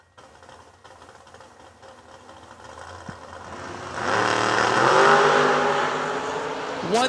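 An Oldsmobile drag racing car builds from a distant low drone into a loud, sustained roar as it charges down the track at a Kil-Kare drag race, heard from trackside.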